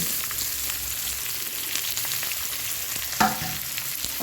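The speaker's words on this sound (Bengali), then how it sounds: "এরপরে আমি গাওয়া ঘিটা দিয়ে দিয়েছি দিয়ে ভালো করে আমি ভেজে নেব" Cashews frying in ghee give a steady, close sizzle with light stirring, and a brief clink of a utensil near the end.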